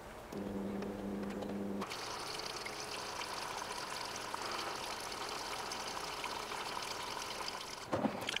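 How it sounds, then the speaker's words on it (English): Water rushes steadily into a Miele washing machine as it fills, a continuous hissing pour that runs for several seconds with no talk. "As you can see, the machine is filling here, and it will take a few minutes to get to the water level"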